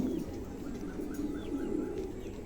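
Mundi pigeons cooing softly nearby, low repeated coos over a faint background hum.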